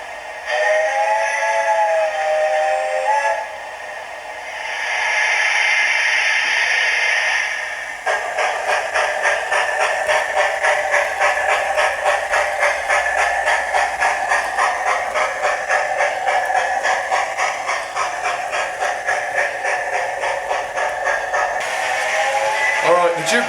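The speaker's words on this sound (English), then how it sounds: "this loco also has DCC sound, or TTS sound installed, so I'm going to get that turned on as well so you can hear her chuffing" A Hornby model steam locomotive with DCC sound runs with a steady, rapid rhythmic chuffing beat for most of the stretch, preceded by a whistle-like tone and a brief hiss; fairly loud and close, with no talk over it.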